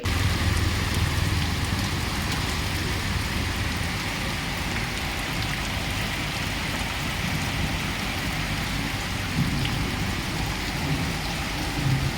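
Heavy rain falls in Karwar in a constant, even roar, broadband and unbroken, with a low rumbling undertone throughout.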